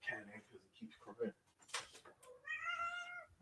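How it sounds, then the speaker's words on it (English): A house cat cries with a short meow near the end, after someone talking indoors; the meow sounds fairly close and comes as his speech pauses. "I gotta lift my cat in because it keeps crying."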